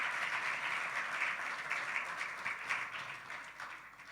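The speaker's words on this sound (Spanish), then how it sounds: "Démosle un fuerte aplauso al Señor" Congregation clapping in a church service, a steady wash of many hands applauding, fairly faint and distant, tapering slightly toward the end.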